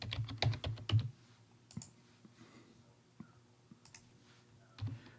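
Keys clatter on a computer keyboard as a command is typed, a quick burst of close clicks at the start, then sparse single taps and a final keystroke in a quiet room.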